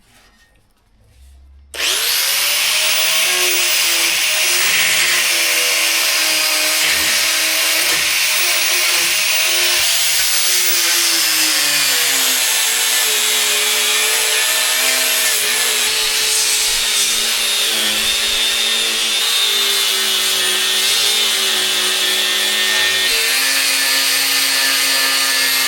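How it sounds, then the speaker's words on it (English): An angle grinder works on welded steel end caps in one continuous loud, high whine that lasts about twenty-five seconds after a brief quiet start, with the pitch shifting slightly as the disc presses on the metal. "It's time to do a bunch of grinding."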